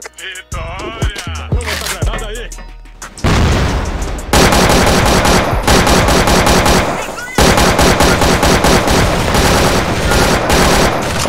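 Rapid automatic gunfire in an online shooter game, long sustained bursts of loud, dense shots after a brief opening of voices and game sounds, with a short pause midway before the firing resumes.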